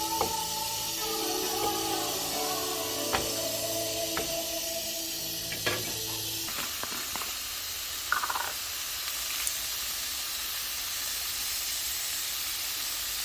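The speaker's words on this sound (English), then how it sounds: "Continue browning and stirring." Ground meat for tacos browning in a pan, a steady hissing sizzle with scattered clicks and scrapes of stirring, loud at first and then a softer continuous hiss, no talking.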